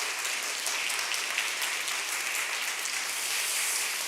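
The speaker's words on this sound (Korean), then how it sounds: "일어서시면 환영의 박수." A church congregation claps in welcome for newcomers at a Sunday service, a steady, dense wash of many hands applauding without a break, fairly quiet and distant, with no voices over it.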